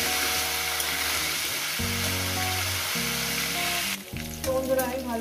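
Cauliflower fries in a pan for a rohu fish curry, a steady hiss of hot oil running throughout with a tonal hum over it and a stir near the end.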